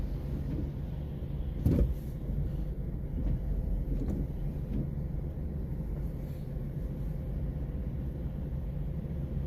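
Cars crawl in rainy traffic on an Adelaide road, heard from inside a vehicle as a steady low rumble with a soft hiss and a brief thump early on, with no talking.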